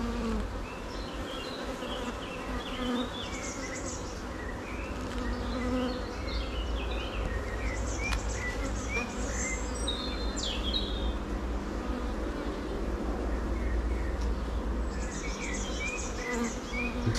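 Virgin queen bee piping inside a beehive, a thin repeated tooting amid the steady dense buzz of many bees, with faint chirps over a constant low hum.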